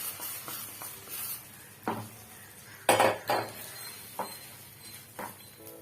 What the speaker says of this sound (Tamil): இப்போ பாதாம், முந்திரிலாம் நெய்யில் வறுத்து நம்ம வந்து சேர்த்துக்கலாம்.